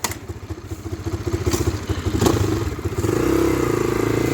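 A nearby motorcycle engine chugs in a rapid, pulsing beat that rises as it revs, then settles into a louder steady drone as the bike moves off near the India–Nepal border.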